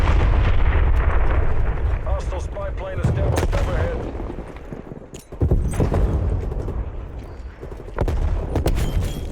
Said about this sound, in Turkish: O güzel bomba.